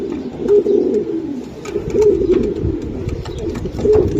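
Racing pigeons coo repeatedly at a pigeon farm loft, soft throaty rolling calls close by, overlapping in a continuous murmur with light rustling and no talk.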